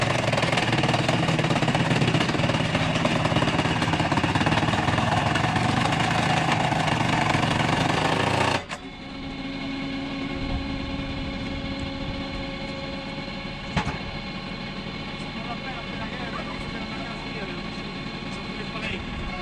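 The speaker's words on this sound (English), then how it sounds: "a heavy-duty steel blade descends, powered by intense hydraulic pressure, splitting the log cleanly into evenly sized pieces" A hydraulic log splitter with a heavy-duty steel blade runs on a loud, steady engine drone while splitting logs. The sound cuts abruptly to a quieter mechanical hum, with a single sharp knock later on.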